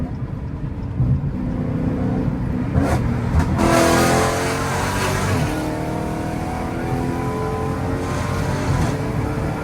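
A loud, raw exhaust from a Dodge Challenger Hellcat Redeye with catless mid pipes roars and revs hard, surging in a couple of bursts before settling into a sustained, rumbling drone at speed.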